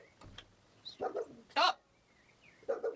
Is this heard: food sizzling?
no